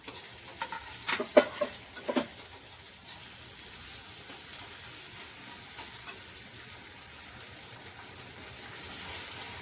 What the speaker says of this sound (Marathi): कांदा टमाटर भाजतोय